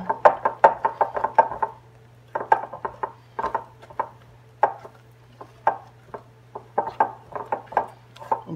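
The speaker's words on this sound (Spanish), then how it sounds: "Así que yo voy a coger esto y lo voy a batir," Brownie batter is beaten by hand in a bowl with a utensil, making bursts of quick, close tapping knocks against the bowl with short pauses between them.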